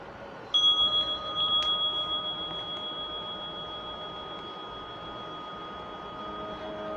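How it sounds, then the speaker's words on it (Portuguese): A meditation bell is struck once to open a meditation session, giving a bright ringing onset followed by a long, slowly fading sustained tone with a steady shimmer, alone against faint background. "Começa com o toque de um sino e termina com três sinos."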